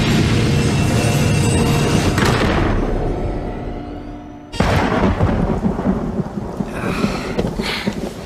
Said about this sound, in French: Ah la vache, il y a plein d'éclairs.